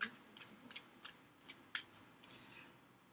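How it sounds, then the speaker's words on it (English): Tarot and oracle card decks being shuffled by hand, a soft run of quick papery riffles and taps repeating about every third of a second, faint and close, with no talking. "Shuffling the smaller decks first and then the oracle deck"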